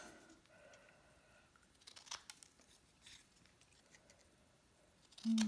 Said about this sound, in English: And then I'm just going to cut that.